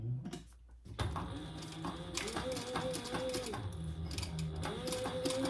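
A sewing machine top-stitches an X on a slim duffle bag, running in a steady mechanical whir with small pitch shifts as the stitching changes direction, close and moderately loud.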